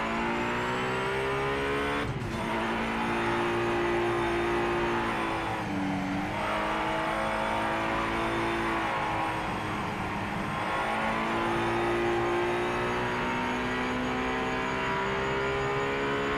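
A GT race car engine in the Project Motor Racing video game (GT Icons DLC) drones loudly and continuously. Its pitch dips briefly at two gear changes, then climbs and holds steady as the car is thrown through corners.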